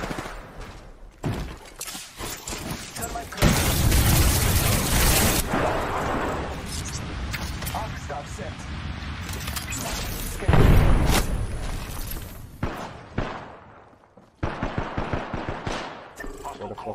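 Apex Legends gunfire comes in rapid automatic bursts and heavy shots, loud and close, repeating in long volleys over about seventeen seconds while a player talks excitedly over the shooting.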